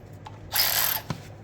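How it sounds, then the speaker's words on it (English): A tool backs out a 14 mm brake caliper bolt on a 2017 Kia Soul during front brake pad and disc replacement, a short half-second mechanical whir with a faint tap before and a clunk after. "we're going to take off these two 14 millimeter bolts"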